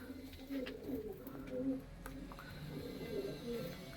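Lal Cheena pigeon coos in a steady series of soft, rolling calls close by, with a quiet room murmur behind and no clear talk.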